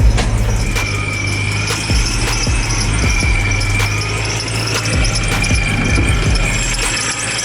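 A supercharged Ford Mustang engine running very loud up close, a harsh, sustained roar with a high supercharger whine and repeated rough low pulses throughout, no voices audible over it.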